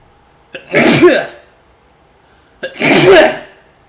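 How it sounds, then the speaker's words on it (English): Two sharp sneezes about two seconds apart, each a quick intake followed by a loud, breathy burst, close to the listener with quiet between them. "Great sneezes come in pairs."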